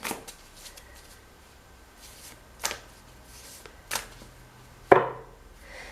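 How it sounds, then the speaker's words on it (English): A Druid Craft Tarot deck is shuffled by hand in a quiet room, with a few soft riffles and card slaps spaced about a second apart, ending in one sharper snap. "I'm going to shuffle,"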